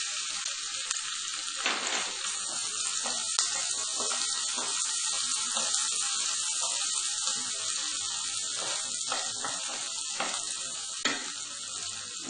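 Garlic and ginger paste sizzles steadily in a hot pan for a veg burger filling, with a loud, continuous frying hiss, faint clinks and a stir or two, and no talking.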